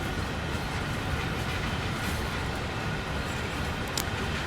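A Class 455 electric train rumbles past in a steady, loud, continuous roar, with a faint brief squeal near the end and no voices.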